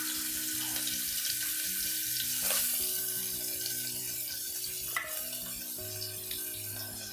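Chopped onions sautéing in groundnut oil in a pan for a pea kurma, a steady soft sizzle and hiss running throughout, close but quiet beneath louder background music.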